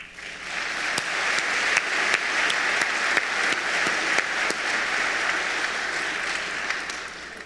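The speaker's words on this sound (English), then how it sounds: "Give you a round of applause, please" A school assembly audience at Springdale High gives a steady round of applause for the Class of 2019, dense continuous clapping with a few sharper near claps, filling the whole stretch without talk.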